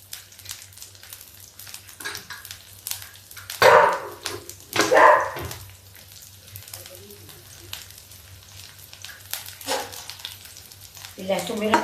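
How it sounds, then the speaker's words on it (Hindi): Garlic fries in hot oil for chana dal with pumpkin, a soft, steady sizzle broken by two sharp, louder spitting bursts, heard close with no talk over it. "लहसुन मेरा पक रहा है"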